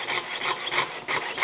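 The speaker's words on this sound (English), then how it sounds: "So now I'm going to start sawing." A jeweler's saw frame cuts metal on a bench pin, making a steady close rasping stroke that continues evenly with slight dips between strokes, with no talking.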